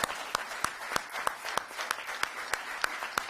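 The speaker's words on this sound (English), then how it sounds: "Please, a big round of applause for them." Audience at a women's conference applauding a convener: a small group clapping in a steady rhythm of sharp, evenly spaced claps over a soft wash of room noise.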